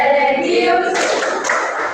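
A classroom of pupils clapping a rhythmic school clap chant, bright dense claps running steadily throughout with voices mixed in near the start.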